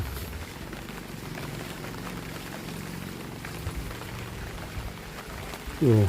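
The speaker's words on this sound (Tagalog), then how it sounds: "Ang ulan na yan." Steady rain patters and hisses on a surface in a continuous wash of sound, during house roof demolition, with a louder bump right at the end.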